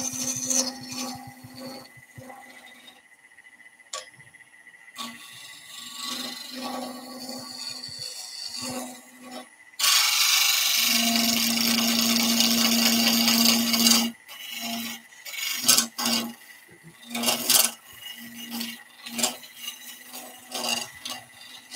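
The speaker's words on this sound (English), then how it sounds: "you're not only scraping resin, you are scraping timber as well" A lathe scraping tool works a timber and Ecopoxy epoxy-resin twig bowl, giving intermittent rasping passes with a loud, sustained scrape through the middle before returning to shorter strokes.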